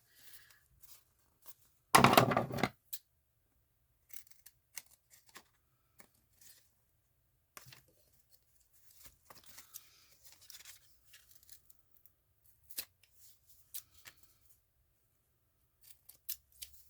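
Scissors snip through paper to cut pockets, with one loud, close burst of cutting followed by many faint, scattered clips and rustles separated by quiet gaps.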